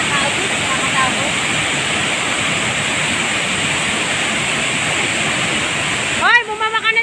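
A river flows near a waterfall, a loud, steady rushing roar of water that runs unbroken for about six seconds before cutting off abruptly, leaving a brief snatch of voice.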